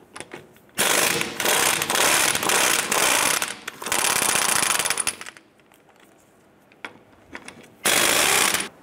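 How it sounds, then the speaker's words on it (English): A ratchet wrench with a 19 mm socket rattles lug nuts loose from the rear wheel of a 1993-1997 Ford Ranger, loud close clicking bursts in three long runs separated by quieter pauses. "Using our 19 millimeter socket, let's go ahead and remove our lug nuts."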